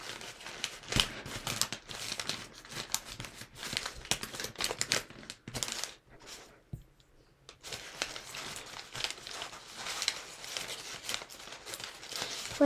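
Quiet, close crinkling and rustling of paper being folded into an origami wasp, with irregular crisp creasing taps and soft shuffles and a brief near-silent pause midway.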